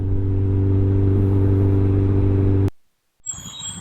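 A Suzuki Hayabusa Gen 3 motorcycle rolling into a workshop, its loud, steady engine rumble holding and then cutting off abruptly, followed by near silence and faint clatter.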